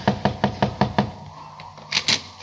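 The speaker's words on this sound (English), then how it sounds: "Knock again" Knocking on the door of a broken-down old shack, a rapid series of six sharp raps followed by a pause and then three more, close and distinct, with no voices.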